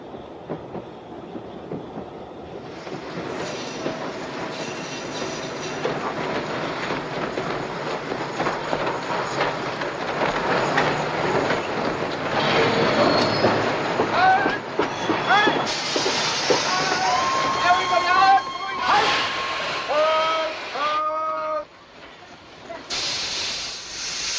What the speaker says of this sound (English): We have to clear the track. Our trains are coming!